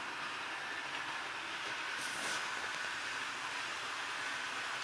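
A small train rumbles steadily in the background with a continuous whirring and rattling hiss, faint and unbroken, with a brief squeal partway through.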